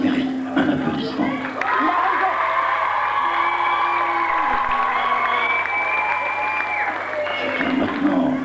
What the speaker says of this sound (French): ça mérite un applaudissement